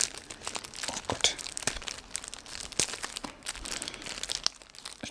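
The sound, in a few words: peeling adhesive tape off headphone packaging, plastic crinkling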